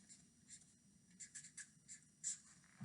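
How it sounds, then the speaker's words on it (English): A marker or pen writes a name on a poster in a series of soft, close, scratchy strokes with short gaps between them, quiet and alone. "So I'm going to write my name in the bottom right corner of my poster."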